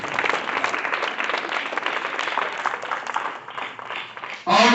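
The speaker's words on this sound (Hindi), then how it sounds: "ताली बजा दीजिए" Students in a school maths class clap together, a dense, even burst of applause that fades slightly before a sudden loud close-miked noise at the end.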